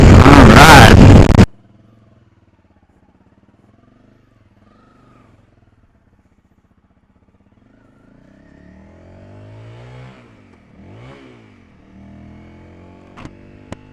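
A brief loud blast of wind noise opens, then a motorcycle engine idles low and quiet before revving up and down a few times, rising and falling, heard from a rider-mounted action camera.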